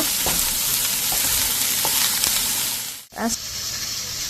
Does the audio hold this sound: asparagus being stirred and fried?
yes